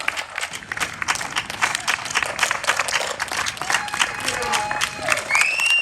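Sustained audience applause at a Heroes Highway ride event honoring Canadian heroes, dense steady clapping with scattered cheers and whistles throughout, loud and continuous.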